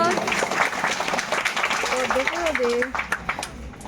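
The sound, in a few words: audience applauding at a village prize ceremony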